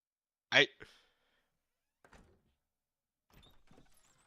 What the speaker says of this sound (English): It's a creaky door. It's literally a creaky door.